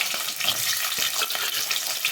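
Close, steady sizzling of garlic and onion frying in hot oil, a continuous crackling hiss with small pops throughout.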